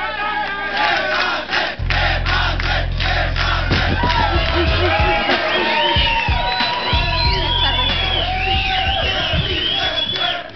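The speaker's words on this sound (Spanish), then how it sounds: "un aplauso para Cristín, que venga adelante." A loud crowd roars and shouts with whoops and cheers, excited voices overlapping continuously up close.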